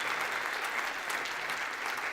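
Audience at a spring talk on mixed reality gives a sustained round of applause, dense steady clapping from many hands throughout with no talk over it.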